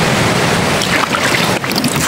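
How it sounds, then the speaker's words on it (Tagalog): Sea waves and wind near a seaside farm give a loud, continuous broadband roar close to the microphone, with buffeting wind noise and no talk. "Ano madungog yung balod no. Kay dool man ni siya og dagat."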